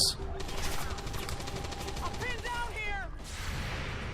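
Gunfire from the video game XCOM 2 rattles in rapid bursts, loud and steady, with mechanical whirs and chirping effects over a dense noise bed.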